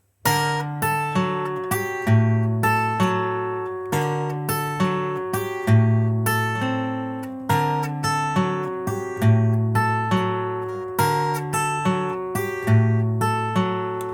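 Fingerpicked guitar, a bass note alternating under plucked upper strings, steady and even in tempo, played close and clearly without any talking.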